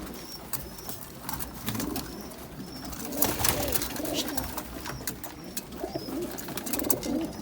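Low soft cooing of pigeons repeating over a busy background of chirps, rustling and wing flutters nearby.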